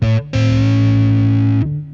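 A distorted electric guitar note rises a half step to the major third and holds, sustained and loud, after a brief opening note.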